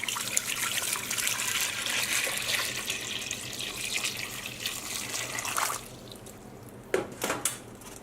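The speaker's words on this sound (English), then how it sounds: "we're just going to cover this with some cold water" Cold water runs from a tap into a pot of salted potatoes, a steady close gushing that stops partway, followed by a few drips and sloshes.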